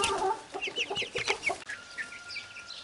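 Chickens in a garden enclosure clucking rapidly, a busy flurry of short, overlapping clucks and chirps at close range, with no talking.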